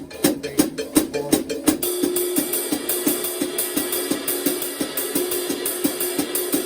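A foot-operated hi-hat chick keeps a steady offbeat sixteenth-note ostinato throughout, with a few louder hand-played drum hits at the start before the pedal pattern settles into a crisp, even, close-up pulse.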